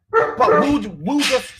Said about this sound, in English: sorry, that's my dog going mad.